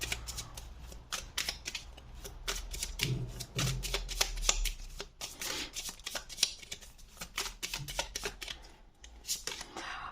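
Fast, crisp riffling and slapping of a slippery tarot card deck being shuffled by hand, repeated bursts in an irregular rhythm, close up with a faint low background hum.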